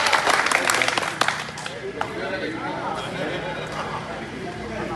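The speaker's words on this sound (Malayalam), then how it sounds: "കുഞ്ഞുമരക്കാർ നല്ല കയ്യടി കൊടുക്കട്ട, നമ്മുടെ കയ്യടി കൊടുക്കുക" A crowd claps in applause at a local event, a dense patter that is loudest at the start and then tapers off into a softer, steadier spatter.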